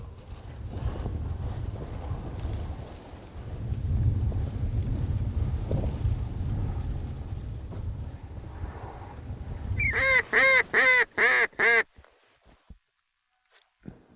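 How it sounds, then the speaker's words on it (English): During a duck hunt in an open field, a quick series of about five loud, nasal quacking duck calls comes near the end, after a long stretch of wind rumble on the microphone. "Three mallards to the left coming down the field."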